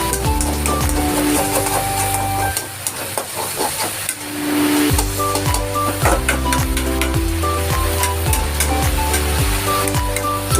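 Tomatoes hit a hot pan for noodles and sizzle steadily and loudly, with a spatula scraping and stirring in repeated strokes and a brief dip in the frying partway through.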